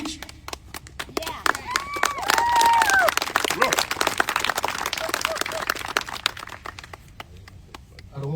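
Scattered, uneven clapping from a small crowd at a Memorial Day commemoration breaks out amid voices, with a few people talking over the sharp, irregular claps that gradually thin out.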